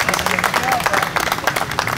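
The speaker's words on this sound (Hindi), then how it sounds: "आप सबकी भरपूर तालियों में मैं मुल्तमिस हूँ खुर्रम आफाक से" Applause from the audience at an Urdu poetry mushaira, a dense patter of clapping filling two seconds with a murmur of voices mixed in.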